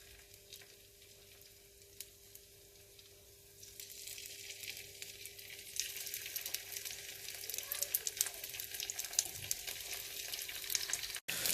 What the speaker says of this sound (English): So I will be frying this on either side